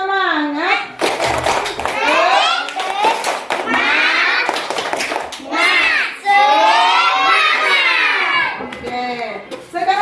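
A classroom of children performs the 'tepuk semangat' clapping chant, loud young voices shouting and singing in unison with bursts of rhythmic hand claps between phrases, close and energetic.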